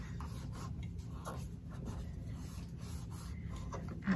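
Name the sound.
burnishing folded paper along the edge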